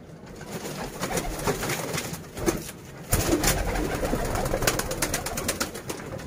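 Golden pigeons coo in a loose, repeated rhythm close by, set against a rough background of rustling and handling noise, with no one speaking.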